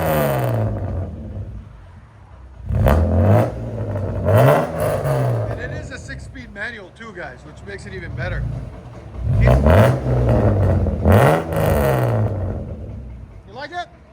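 A 1999 BMW M3 with a 3.2L inline-six, no catalytic converters and a Sebring muffler, revved hard in several sharp blips rising and falling, loud and close, with someone talking between revs.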